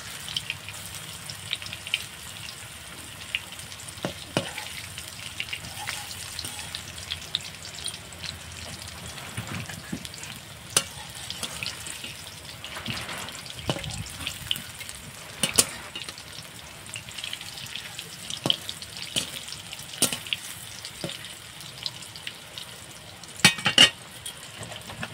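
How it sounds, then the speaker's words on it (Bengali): Cauliflower frying in hot oil crackles and sizzles steadily, with frequent sharp pops and occasional clatters of turning the pieces, close by and with no one speaking. "এপিট ওপিট করে আমি লাল লাল করে ভেজে নেব।"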